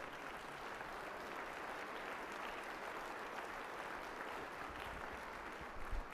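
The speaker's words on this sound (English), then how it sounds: "give them a round of applause" An audience at a 2021 State of the City address gives a steady round of applause with sustained clapping for about six seconds, quiet and somewhat distant, with a few louder claps near the end.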